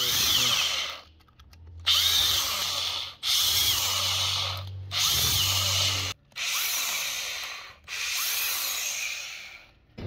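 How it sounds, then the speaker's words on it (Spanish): Power drill with a self-centering bit marking hole positions in a homemade tortilla press, running in about five separate bursts separated by brief pauses, loud and close with a whining, grinding bite into the material. "Son broca autocentrable, son maravillosas para este tipo de trabajo."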